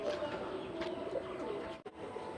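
Pet pigeons in a home loft cooing softly, low repeated coos over a faint steady background.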